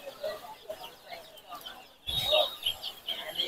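Ducklings and chicks peep and cheep at a busy village market in Tangail, their high chirps clustered close and rising louder midway, with crowd murmur and voices in the background.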